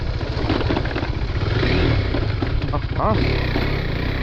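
Bajaj NS200 motorcycle engine revving on a dirt road, a loud continuous rough engine drone with rising revs and some clatter, heard close up while someone talks over it briefly.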